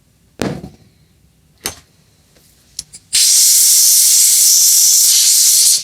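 Compressed air blasting oil residue off an engine part from a 1965 Ariens snowblower: a few short hissing puffs, then a loud continuous close hiss for the final few seconds.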